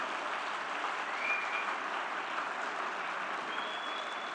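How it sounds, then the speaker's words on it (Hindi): Steady, distant-sounding applause from a festival crowd after a Gujarati raas folk dance performance, an even wash of clapping holding throughout with no breaks. "तो इन कलाकारों के लिए एक बार फिर ऐसी तालियां हों कि दूर तक गूंज जाए"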